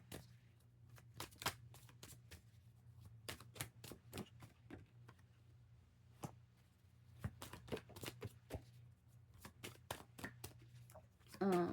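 Tarot cards being shuffled in repeated bursts of sharp riffling snaps with brief pauses between, close and crisp over a quiet room background.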